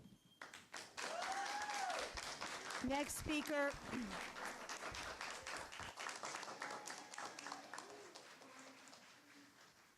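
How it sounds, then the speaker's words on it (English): Clapping from a town board meeting audience in Islip rises sharply and carries on for several seconds, then thins out as voices call out over it and a person briefly speaks. "Could you please hold your applause so we can get the next speaker up"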